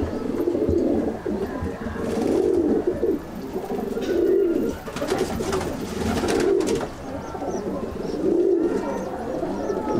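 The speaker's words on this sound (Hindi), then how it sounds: "ये मादी कबूतर है" A female pigeon coos close by in repeated low, throaty phrases, several soft rolling calls spaced evenly over steady background noise.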